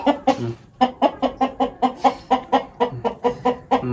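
A champion-breed rooster clucks in a quick, steady series of about fifteen short, close notes, evenly spaced and loud, with no other sound between them.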